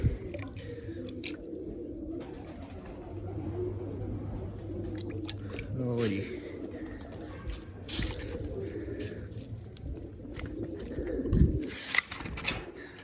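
Pet pigeons in a loft cooing in low, repeated throaty calls, fairly close but soft, with scattered shuffling and a few sharp knocks as the birds are fed grain and water.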